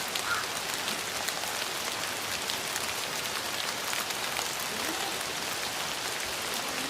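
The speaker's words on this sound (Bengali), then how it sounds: "আবার বৃষ্টিও পড়ছে" Steady rain falls outdoors in a heavy, even hiss on surfaces, continuous and close for the whole stretch, with no voices.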